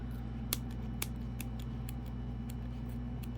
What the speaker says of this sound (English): My scissors are starting to become a little bit dull.